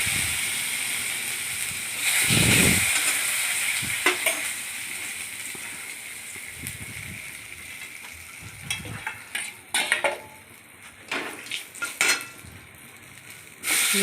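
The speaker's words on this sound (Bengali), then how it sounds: "এবার ওই তেলে রাঁধুনি ফোড়ন দিলাম শুকনো লঙ্কা তেজপাতা" Radhuni seeds, dried red chilies and bay leaves tempering in hot oil in a pan, a crackling sizzle broken by scraping stirs and clinks of a utensil against the metal, close and fairly loud, no voices.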